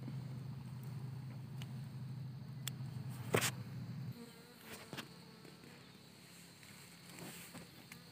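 Bees buzz around a hive being collected near dusk, with a constant close drone as several insects fly past the microphone, each briefly louder; no voices are heard.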